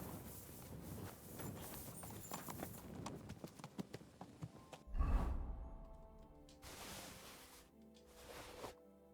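Horse hooves clip-clopping in Kingdom Come: Deliverance 2, a close, rhythmic series of hoofbeats on ground for several seconds, followed by a heavy thump and quieter shuffling movements with a snort or breath.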